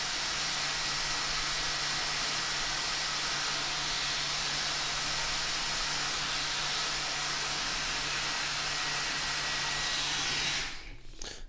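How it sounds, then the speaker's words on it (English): A Dyson Gen 5 Detect cordless stick vacuum roars at full boost, a steady loud rushing whine with a low hum, then cuts off abruptly near the end. "So now we're going to test both vacuums on the boost setting."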